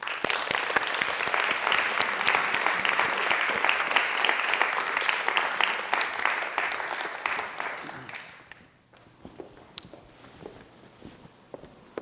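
A lecture-hall audience claps for special guests at an event on truth and theology, with dense, sustained applause for about eight seconds before it tapers to scattered claps and shuffling.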